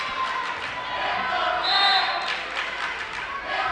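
A rowdy crowd at a high school volleyball district championship between Farmington High and KCHS keeps up a steady roar of cheering and shouting in a gym. The noise swells in the middle and stays loud throughout, with no clear individual voices.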